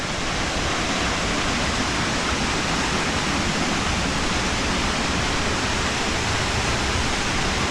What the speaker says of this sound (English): The water just gushing out and splashing.